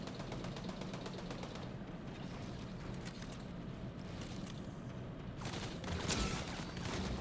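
Sentry guns open fire in Fortnite, a quiet, distant stream of rapid automatic shots that rattles on steadily with no talk over it.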